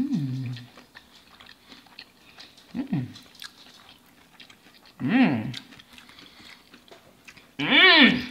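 Chewing on fried catfish and jumbo shrimp at a mukbang meal, a few separate moist bites and chews spaced across the clip, close to the mic, with speech nearby.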